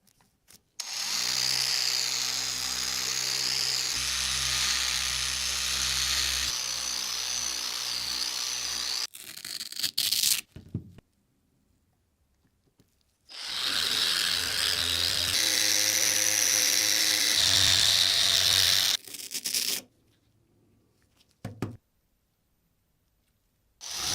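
A power polisher works polishing compounds over a wooden baseball bat during restoration: loud, steady whirring bursts of several seconds each, broken by short clunks and silent pauses between passes, with no talking.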